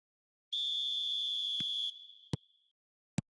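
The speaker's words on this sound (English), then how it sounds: "There's the whistle, and here we go." Referee's whistle starting a match in the eFootball video game, a single long clean shrill blast followed by a shorter trailing tone and a few sharp clicks, isolated over silence.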